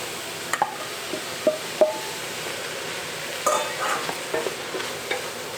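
Ingredients for black bean soup sautéing in a pan, giving a soft continuous sizzle under a series of spatula taps and scrapes, with a busier burst of stirring midway, close and moderately quiet with no speech.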